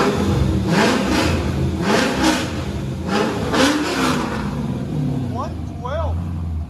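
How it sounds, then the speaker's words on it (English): A 2000 Chevy Corvette with a 5.7L LS1, dual exhaust, long tube headers and Magnaflow exhaust idles with a low rumble and is revved several times in quick blips, close by, with someone talking over it. "Give it gas for sound decibels"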